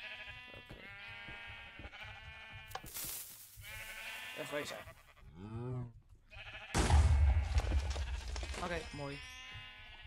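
Sheep in the video game Minecraft bleat several times in short, nasal bursts, with someone talking between and over the calls and in-game sounds around them.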